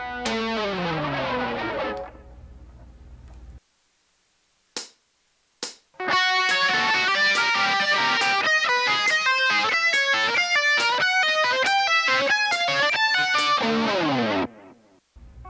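Heavily distorted electric guitar playing fast lead notes from a song, with a short pause and a few stabbing hits before a sustained run of dense, driving notes.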